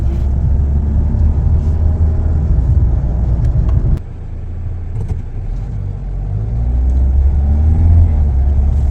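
Mahindra XUV car cruising on the NE4 Mumbai–Delhi Expressway, a steady loud low engine and road rumble throughout with a brief dip in level midway before rising again; no talking.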